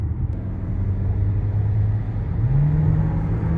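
Volkswagen Tiguan II 2024 SUV accelerating from inside, a low steady engine drone that rises in pitch, dips briefly at a gear change, then climbs again, no talk.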